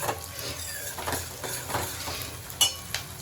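Green chillies drop into hot oil seasoned with asafoetida and turmeric for tempering in a home kitchen, giving a soft crackling sizzle with a few sharp pops and a spoon clink near the end, close and moderately quiet.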